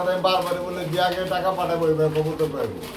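Low, throaty cooing of pigeons, overlapping soft calls close by, with a voice talking over them.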